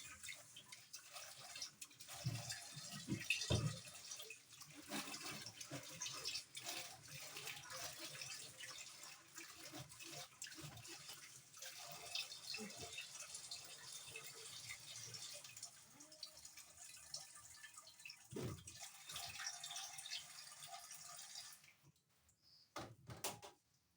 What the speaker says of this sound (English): Okay, you just rinse with your hands.